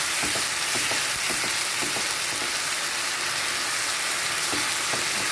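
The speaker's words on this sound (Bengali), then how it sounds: "আলুটা ভাজা হয়ে এসছে, পেঁয়াজটাও লাল লাল হয়ে এসছে" Potatoes and onions fry loudly in a pan, giving a dense, continuous sizzling hiss from start to finish with faint stirring knocks underneath. Nobody speaks.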